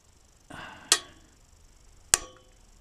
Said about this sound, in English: That's just the rust snapping.